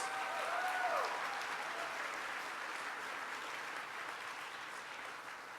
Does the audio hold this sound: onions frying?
no